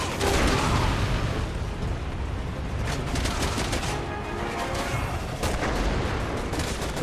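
Continuous dense gunfire and explosions in the video game Resident Evil 6, a steady barrage of rapid shots and booms filling the whole stretch with no pause.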